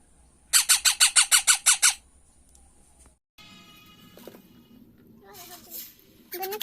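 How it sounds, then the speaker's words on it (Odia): A pet bird squawks while a small child plays with it indoors: a burst of about nine loud, evenly spaced squawks, then quieter chirps and shuffling, with a few faint squawks near the end. "ଗୁନୁ ଖେଳୁଛି ଚଢେଇ ସହିତ"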